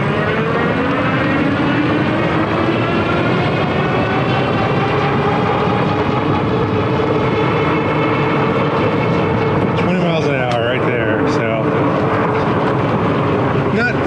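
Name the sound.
Meebike Gallop e-bike accelerating from standstill to top speed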